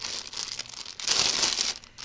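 A plastic bag crinkles and rustles as a cross stitch kit is pulled out of it, giving close, continuous crackling with brief louder bursts and no talking.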